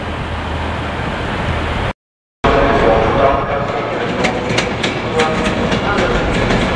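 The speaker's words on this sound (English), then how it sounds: "The train is going to London." Passenger train rolling past on the line toward London in North East England, steady loud rumble with rhythmic clicking wheel beats and a brief dropout, a voice speaking over the noise.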